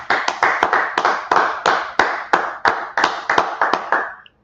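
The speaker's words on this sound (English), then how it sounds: "go ahead and clap it up" A small group claps in unison during a class meeting, about a dozen sharp, close claps in an uneven rhythm that ends abruptly, with no talking.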